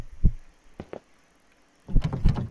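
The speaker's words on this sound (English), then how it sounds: "Listen, heartbeat, my friend." Heartbeat in the horror video game One Late Night: a few dull low thumps, spaced unevenly, then a louder cluster of deep throbbing beats near the end, with quiet pauses between.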